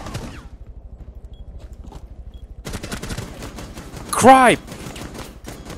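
Rapid automatic gunfire in a Rainbow Six Siege match, a fast rhythmic burst of shots running close and loud through most of the moment, with players shouting over it and a sharp shrill cry near the end.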